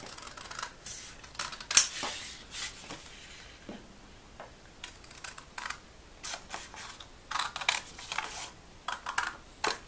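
Scissors cutting around a traced sewing patch pocket pattern with seam allowance, a series of close, crisp snips and paper rustles coming in irregular bursts with short pauses between.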